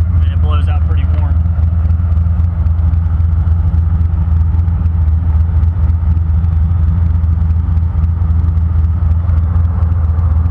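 A car heater box blower fan runs on high inside the cabin, a steady low droning rush holding level throughout, with a short burst of talk at the start.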